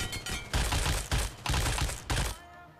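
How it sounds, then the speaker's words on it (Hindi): In the mobile shooter BGMI, a pair of dual MP7 submachine guns reload one after the other. The reload gives off rapid bursts of mechanical clatter in roughly rhythmic waves, fairly close, with a quieter tail at the end. "तो देख सकते हो कुछ इस टाइप से यहाँ पर इसका रिलोड होने वाला है।"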